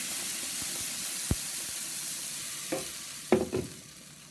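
Garlic sautéing in a teaspoon of oil in a frying pan for a lentil soup sofrito, a steady soft sizzle with a few sharp scrapes and clinks of stirring near the end.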